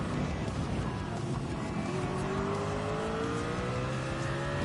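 A race car in Gran Turismo 7 pulls out of the pits with a steady, loud engine drone whose pitch slowly climbs as it accelerates, continuous and close throughout.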